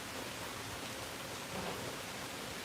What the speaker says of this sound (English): Rain is nice.